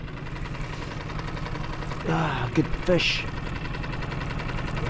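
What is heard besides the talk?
boat engine running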